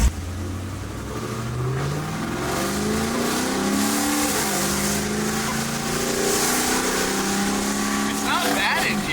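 A cammed police car with straight pipes revs its engine up and down, a loud, rumbling exhaust rising in pitch through several throttle blips and holding a heavy, continuous drone, heard up close with faint voices in the background.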